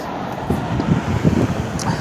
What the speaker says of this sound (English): there's cars and stuff going by